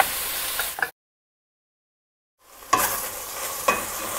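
A spoon stirs mushrooms in a pot of okra and meat broth, scraping and sizzling softly before a two-second silence, then resuming with a few sharper clinks against the pot.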